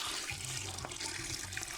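Running tap water rinses food in a kitchen, a steady broad splashing stream with faint low clatter underneath, continuous and close.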